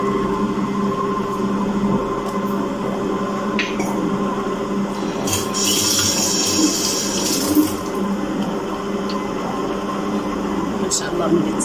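Water poured into a bread dough mixture of flour, salt and yeast, heard as a steady soft trickle and splash under a constant room hum, while someone speaks.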